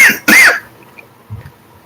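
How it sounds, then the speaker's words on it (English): A man coughs twice in quick succession, loud and close, after which there is a brief faint throat noise and near silence. "Sorry, I have to cough again."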